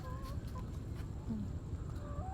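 Roosters cluck intermittently in a quiet village yard, a few short calls spaced out over low background noise.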